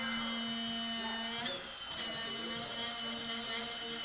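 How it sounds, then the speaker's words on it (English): A steady whirring machine hum with a high tonal whine as wood for a honey pot is sanded on a spinning lathe, briefly dipping before resuming; continuous and close. "And while it's on the lathe, you can just come in here and start sanding it away."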